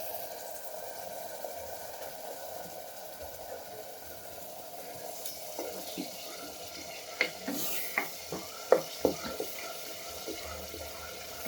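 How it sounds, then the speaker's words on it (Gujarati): Green masala paste of ground green chillies being stirred in a pan for a potato dish, a faint scraping and soft sizzling with scattered clinks of a spoon against the pan growing more frequent toward the end. "પેસ્ટને આપણે થોડી હલાવી લઈશું"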